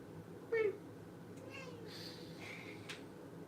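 A pet cat meows once, briefly and fairly close, over a low steady room hum, followed by a few faint higher chirps and rustles.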